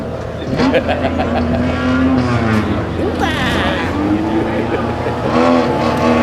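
Four-cylinder heat race cars roaring around Salem Speedway, their engines revving and rising in pitch as they pass, loud and continuous, with an announcer talking over the racket.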